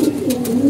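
Pigeons coo in a steady, near series of low, throaty, rolling calls that continue throughout without a pause; no one speaks.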